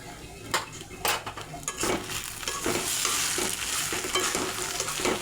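Stirring garam masala powder into a fish head and cabbage curry in a pan: a spoon scrapes and clinks against the metal pot in repeated strokes over a steady low sizzle, close and moderately loud, with no talk.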